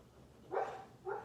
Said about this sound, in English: He's like whimpering like dogs do.